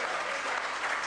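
Sustained applause fills the House of Commons chamber during a parliamentary general debate, a dense steady wash of many hands clapping at even loudness throughout.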